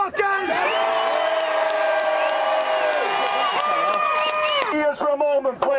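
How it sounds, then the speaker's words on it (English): A large anti-lockdown protest crowd in Manchester cheers and whoops loudly and continuously, with sustained shrill calls over the roar before it breaks into scattered shouts near the end. "Give us a cheer, you motherfuckers!"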